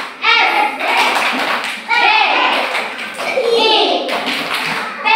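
A group of Indonesian schoolchildren claps hands in quick rhythmic bursts while chanting a class clapping chant and shouting along, the claps and voices loud and close.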